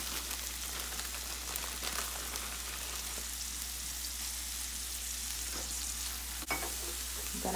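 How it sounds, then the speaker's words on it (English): Cabbage prepared the night before goes into a pan over low heat and fries with a steady, close sizzle, broken by occasional scrapes and clinks of stirring throughout, with no talking. "I'm gonna add the cabbage that we prepared last night"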